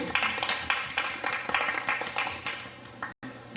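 Audience at a community self-governance forum clapping as a committee member is called to the front, with crisp close claps in a fairly steady rhythm that taper off before a brief cut.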